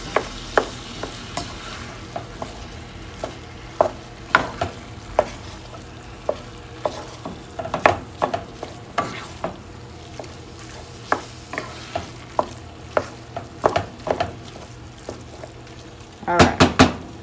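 Chili beans being stirred in a pot with a spoon, giving a run of repeated scraping, clinking strokes over a low steady hiss, with a louder burst of stirring near the end.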